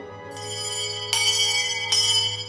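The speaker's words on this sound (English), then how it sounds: "The school day began with a ringing of the bell by a student selected by the teacher." A school bell at the Sandy Pond School, rung by a student to start the day, strikes three times at a steady pace, each clang ringing on and overlapping the last, clear and fairly close.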